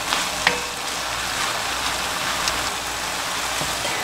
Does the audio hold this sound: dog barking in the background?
no